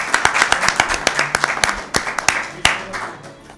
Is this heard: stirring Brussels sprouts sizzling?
no